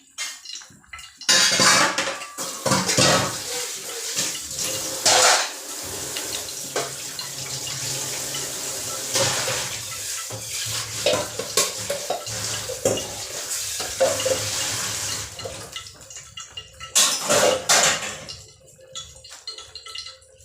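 Dishes washed in a kitchen sink after cooking: running tap water, clinking pots, pans and utensils, continuous and close with uneven loud bursts of clatter.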